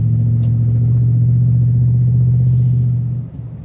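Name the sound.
car driving on a gravel road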